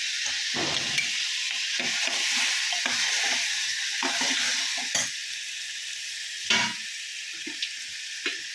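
A ground paste sizzles and spits in a hot pressure cooker, with scraping stirs and a few sharper clunks over a continuous frying hiss.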